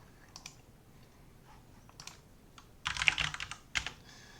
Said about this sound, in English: what's they called, MX red switches in my mechanical keyboard